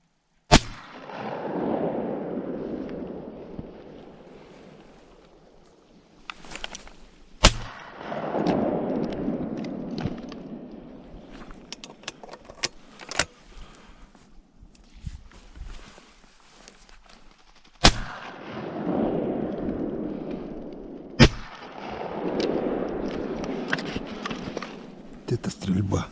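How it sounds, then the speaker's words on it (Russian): Shotgun blasts during a duck hunt ring out in sharp, loud single reports spaced several seconds apart, each trailing off in a long echoing rumble across open country. "Это стрельба."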